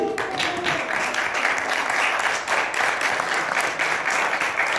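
An audience applauds at a magic show, steady dense clapping from many hands that holds at an even level throughout without any talk.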